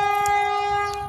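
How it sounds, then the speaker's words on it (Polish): A loud, steady train horn blares with two strong sustained tones, with low rumbling underneath, held throughout a short stretch as a big train approaches. "co to za pociąg!"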